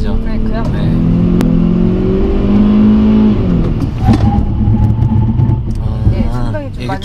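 Hyundai Veloster Turbo with a 1.6 turbo engine and seven-speed DCT under hard braking on a test drive: loud engine and road rumble fall in pitch as the car slows, while people talk over it inside the cabin.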